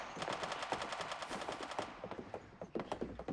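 Rapid AK rifle bursts in the mobile battle royale game Rules of Survival, a steady run of loud automatic shots with short gaps, alone without talk.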